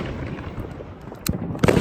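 Fireworks go off outdoors at a backyard gathering, a low rumbling wash of distant bursts broken by two sharper cracks near the end, with no talking.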